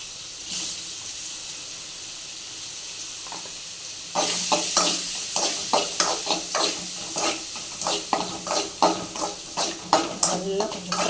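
Paneer and garlic frying in a pan for a roadside-style paneer fry, a steady sizzle that grows louder as the pieces go in, then repeated scraping stirs in an uneven rhythm.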